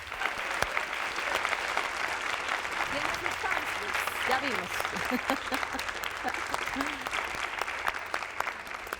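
Loud, sustained audience applause at a tribute event for Vicente Leñero, with crisp individual claps over a steady crowd wash; a voice speaks briefly beneath the clapping midway through.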